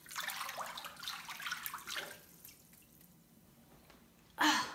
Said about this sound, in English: Let me get my hands rinsed off.